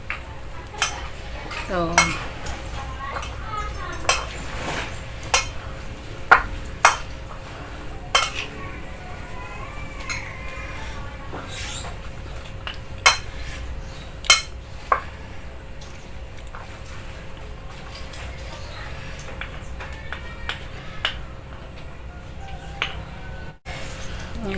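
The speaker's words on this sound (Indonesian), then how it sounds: "Kita aduk ya guys" A utensil stirs spicy viral noodles in a bowl, giving irregular sharp clinks and scrapes against the dish, close up, while a person talks between the sounds.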